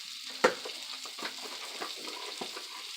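Uncooked rice toasting in a hot pan for a chicken-flavoured rice dish, giving a faint, soft sizzle with a sharp knock early on and light scraping stirs scattered through.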